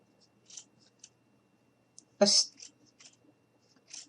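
Scissors cut a thin strip of felt in a few quick, crisp snips, close and fairly quiet, with one louder, longer cut partway through.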